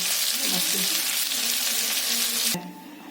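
Masala bangda mackerel fish frying in a pan, giving a loud, close, continuous hiss of sizzling oil with some shifting as pieces settle, which cuts off sharply near the end, leaving only a faint residual sizzle.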